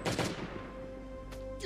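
Gunfire in the zombie survival game Last Day on Earth: a fast burst of shots up front, then a lingering ringing tail, with a couple of fainter single shots later, no voices.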